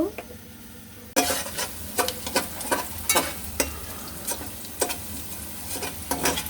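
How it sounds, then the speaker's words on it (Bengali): Onions frying in oil in a cooking pot, a sizzle that jumps in after a quiet second, then stirring with regular sharp clicks and scrapes of a utensil against the pot. "তেল দিয়ে দিচ্ছি আর এখন পেঁয়াজগুলোকে ভেজে নিব"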